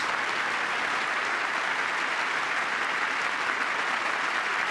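Members of Congress applauding during a Trump speech to Congress: a steady, dense roar of clapping from a large chamber crowd, sustained at an even level throughout with no voices standing out.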